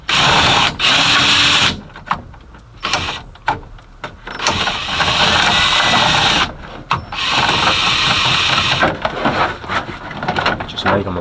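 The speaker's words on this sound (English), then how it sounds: "we need to drill these holes out a little bit bigger" A power drill enlarges holes in a painted Cutlass lower speaker door panel for a passenger door, sounding as loud, close bursts of whining drilling separated by short pauses, with some handling noise between the runs.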